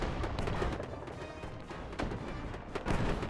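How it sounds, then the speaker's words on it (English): Soviet S-51 self-propelled artillery gun firing in a WWII mobile strategy game, a dense rumbling barrage of booming shots with a couple of heavier blasts standing out over continuous low battlefield roar. "Listen roar of the Soviet guns."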